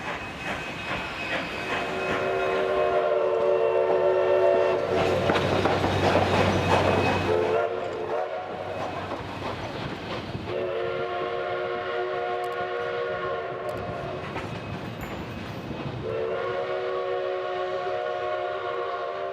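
A Durango narrow gauge coal-burning steam train climbs a 2.5% grade onto the High Line, its whistle sounding in long sustained blasts over heavy chuffing exhaust and rolling rail noise, loud and close with no talking.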